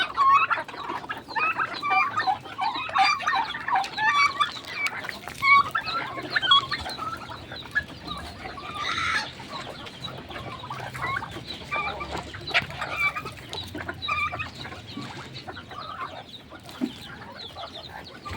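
Hungry pet chickens and turkeys on a farm cluck and call continuously at feeding time, a busy, close flock chorus with overlapping squawks and no talk.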